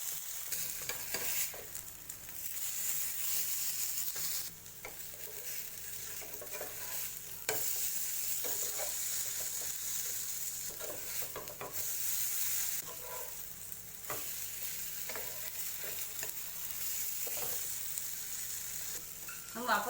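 A sprout chilla fries on a pan in oil until golden brown, a steady moderate sizzle running throughout with occasional scrapes and taps of a spatula turning and pressing it.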